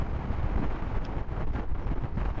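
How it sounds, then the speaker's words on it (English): Strong wind buffets the microphone during a motorbike ride on the A939 in the UK, a dense, steady roar with gusty surges and no voices. "Really windy up here."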